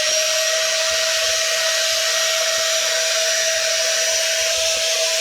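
A brushed cordless vacuum tool runs after being switched on, giving a loud, steady whine with a constant high-pitched tone throughout, close by and alone.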